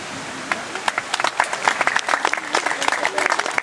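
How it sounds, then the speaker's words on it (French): An audience at a peace festival applauds associations and volunteers, a dense crowd of hands clapping loudly and continuously with sharp, close individual claps standing out from the mass. "je vous demande de les applaudir"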